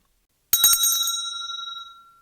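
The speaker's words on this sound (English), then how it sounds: "So the sound of the bell indicates for the rider to start" A bell at a show jumping arena signals the rider to start: one sharp struck ring with a brief rattling onset, then a clear tone that fades slowly, heard alone after silence.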